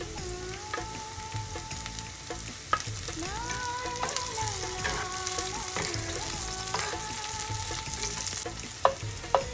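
Garlic sizzles steadily in a pan while beef tripe is cooked, and stirring adds occasional scrapes and clicks against the metal. The frying hiss is close and constant.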